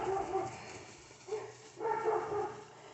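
Several dogs in shelter kennels bark and yip in short bursts, moderately distant and echoing, with quieter gaps between the flurries.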